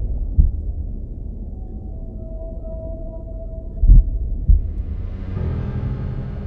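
A blue whale's slow heartbeat: deep, muffled low thumps spaced seconds apart over a dark rumbling drone, with a faint tonal hum and a swell of hiss toward the end.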